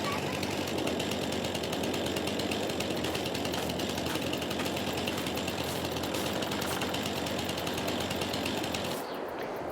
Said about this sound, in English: We do have the steel chainsaw.